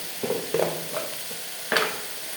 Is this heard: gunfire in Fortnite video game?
no